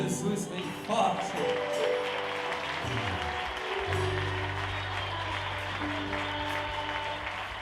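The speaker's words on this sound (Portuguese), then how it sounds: "Mais forte essas palmas." A church congregation applauds steadily through a celebration service, a continuous wash of clapping blended with sustained music and a voice talking over it.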